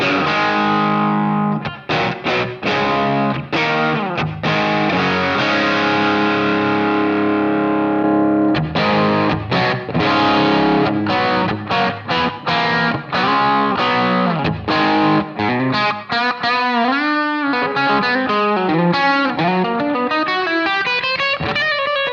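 Distorted electric guitar played through a 57 microphone impulse response on a modeller, with driven chords giving way to quick riffing and bending lead lines, loud and continuous.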